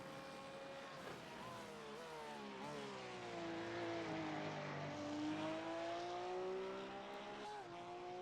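Race car engines drone steadily through the Motegi circuit, their pitch climbing and falling as the cars accelerate and lift, fairly loud and continuous with no talking.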